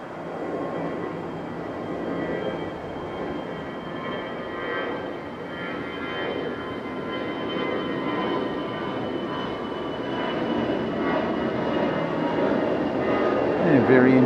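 Aero K airliner, a Korean low-cost carrier, at Okinawa airport, a distant jet engine roar rising slowly in loudness over a broad outdoor rumble, no talking.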